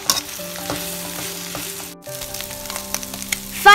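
Cut chapathi pieces stirred and fried in a pan over a low flame, a steady close sizzle broken by scraping strokes of the spatula, with a brief pause midway and no talking.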